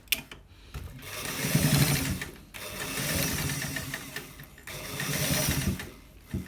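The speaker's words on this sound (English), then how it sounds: "So guys, we are stitching it, so watch it carefully so that you're able to see what we are doing today." A sewing machine stitches a single welt front pocket in three quick bursts of mechanical whirring and clatter, each separated by a short pause, moderately close with no voices.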